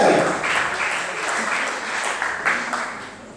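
Audience applause for a beatbox performer at an acoustic show, a steady wash of clapping that swells and fades over a few seconds, with a voice or cheer near the start.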